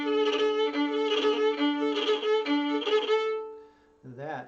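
An Irish fiddle is bowed with too much pressure. Repeated strokes give a strained, scratchy tone with buzzy overtones, close and fairly loud, and a voice briefly begins speaking at the end.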